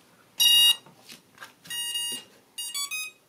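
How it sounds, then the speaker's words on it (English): Electronic beeps sound from the motors of a twin-motor RC airplane after its Flysky receiver is bound, a few short, clear tonal bursts separated by brief pauses. "and then we should hear some beeps."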